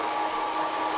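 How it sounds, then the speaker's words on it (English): A hair dryer on its cold setting blows steadily on hair, a continuous even whoosh with no talk over it. "turn the heat off, press the cold air button, and just start to cool that hair down"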